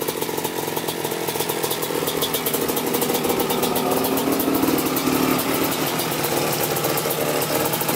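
A Kawasaki Tecate 4 250cc two-stroke quad engine runs close by, a loud, buzzy, crackling drone that climbs slightly in pitch as it revs before settling back, with no voices.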